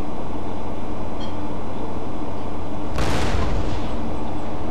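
A single loud cannon blast from a battle in Empire: Total War cuts through a steady rumble of battlefield noise and leaves a long, booming decay.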